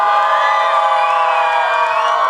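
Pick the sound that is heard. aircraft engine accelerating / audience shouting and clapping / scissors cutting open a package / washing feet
audience shouting and clapping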